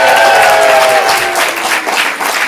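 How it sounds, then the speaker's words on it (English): An audience at a comedy show claps and cheers for the host in a dense, loud burst of applause. A voice is briefly heard over the opening, and the clapping stays strong throughout. "please give it up for your host and the teacher, Carl Wolfson"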